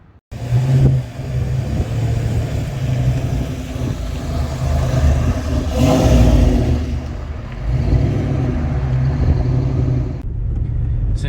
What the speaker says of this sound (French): C'est un départ dans la Ford Mustang 1986 Fox Body de Reynald.